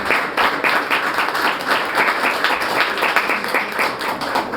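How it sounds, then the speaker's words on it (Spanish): Loud, sustained audience applause greeting a guest at a public debate, many hands clapping in a thick, continuous patter that holds steady for several seconds with no one speaking. "Fuerte aplauso para él."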